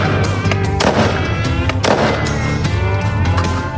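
5.56 green tip 55-grain rifle rounds fired into drywall, several loud, sharp cracks spaced unevenly, each with a brief ringing tail.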